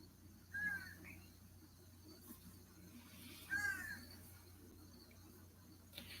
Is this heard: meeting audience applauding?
no